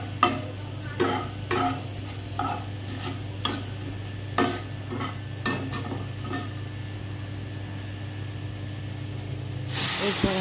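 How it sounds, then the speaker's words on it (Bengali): Whole garam masala stirred in hot oil for a vegetarian ghugni, with a steady sizzling hiss and a dozen or so sharp scraping strokes of the spoon against the pan, close and loud. "দেওয়ার পর ভালো করে একটু নাড়িয়ে চাড়িয়ে নিয়ে যতক্ষণ না স্মেলটা আসছে গোটা গরম মশলার, ততক্ষণ আমি সুন্দর করে নাড়িয়ে চাড়িয়ে নেব।"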